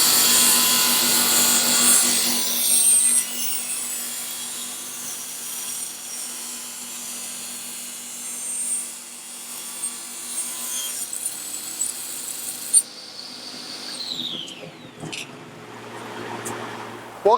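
Close, continuous sawing through wood, steady and rasping for several seconds, then a brief change in tone near the end.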